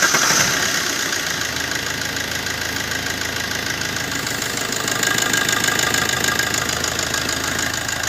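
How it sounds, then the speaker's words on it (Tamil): A Maruti Swift Dzire engine idles after a timing chain replacement, a steady close mechanical hum with fine ticking that holds even throughout, with no voices. "கரெக்டாக லேட் ஸ்டார்டிங்கும் எதுவும் இல்லாமல் கரெக்டாக ஒரு ரன் ஆகுது இன்ஜினு"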